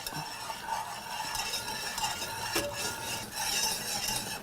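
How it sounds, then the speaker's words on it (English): Butter melting in a pan is stirred steadily with a utensil, producing a continuous scraping and soft sizzling texture close by, with a brief clink of metal partway through and no talking. "you really do have to keep stirring it because it's gonna, that butter will burn"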